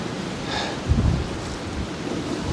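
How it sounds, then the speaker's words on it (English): Strong wind buffeting the microphone beside breaking waves at Poole Harbour during Storm Bert, a constant rushing roar with a brief low gust thump, no voices. "But that wind is way up."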